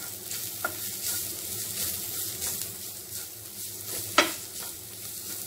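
Egg bonda filling with turmeric, garam masala and black pepper powder sautéed in a pan, a continuous sizzle broken by spatula stirs and a sharp clack near the end.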